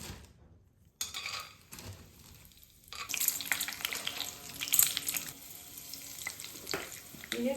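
Hot oil crackles and spits as seasoning goes into the pan for gojju, a soft sizzle that swells louder after a brief pause, with faint kitchen clatter and a trickle of water underneath.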